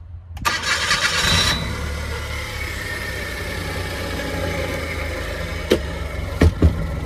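A 1999 Suzuki Every kei van's engine cranks briefly, catches and settles into a steady, close idle, with a few short clicks or knocks near the end.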